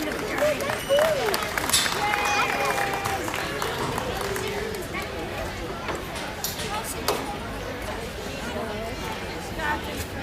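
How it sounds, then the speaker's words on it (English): Crowd applause fills the arena at a junior livestock swine show, a steady dense patter of many hands at moderate distance, with voices and scattered arena noise mixed in throughout. "Please get your blood and get Ready this for round of applause."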